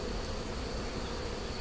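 A swarm of honeybees being moved into a hive, giving a dense, continuous buzzing that is loud and close, with no voices over it.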